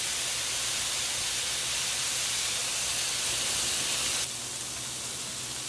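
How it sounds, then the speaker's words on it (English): Spaetzle going into a pot of boiling water gives a loud, steady rushing hiss of boiling and steam that drops suddenly to a quieter level near the end. "I'm gonna add the Spaetzle."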